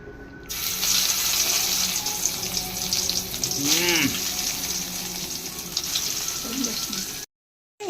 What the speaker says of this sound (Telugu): ఇదిగోండి దీన్ని నూనెలో వేసుకున్నాను